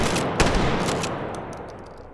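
KSG pump shotgun firing in the H3VR virtual reality game: a loud blast with a long, washing reverberant tail, followed by faint small mechanical clicks of the action being cycled.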